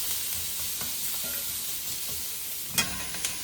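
Flank steak searing in a hot cast iron pan, a steady broadband sizzle running close and loud throughout, with a couple of sharper pops and crackles near the end.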